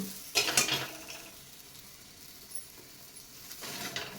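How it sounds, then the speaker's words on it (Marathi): A puran poli is flipped on an oiled pan with a couple of quick utensil scrapes, then frying oil sizzles softly before another brief burst of stirring and clatter near the end. "आता पोळी पलटी करायची"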